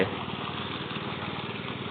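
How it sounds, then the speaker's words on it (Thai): A small engine driving a water pump at a drinking-water well, running steadily at moderate throttle with an even, rapid putter close by, no talk. "อันนี้เร่งเครื่องปานกลางครับยังไม่ได้เร่งเต็มที่นะครับ"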